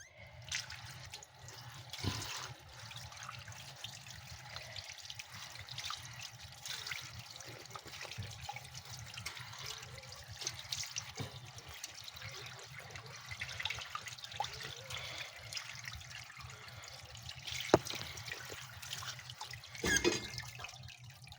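Tap water trickles and splashes steadily over a milkfish (bangus) being rinsed in a kitchen sink, with occasional louder drips and clatters, no talking.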